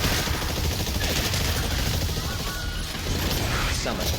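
Rapid gunfire and grenade blasts erupt in the PS5 video game Exoprimal, a loud, busy barrage of shots and impacts layered with game effects and voices.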